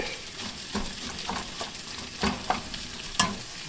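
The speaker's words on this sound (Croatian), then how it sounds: "poslije toga ide luk i šampinjoni. To je to, malo luka, lepo fino dinstati." Onion and button mushrooms sauté in a pan, producing a moderate sizzle broken by several scraping stirs and a few sharp knocks of a utensil against the pan.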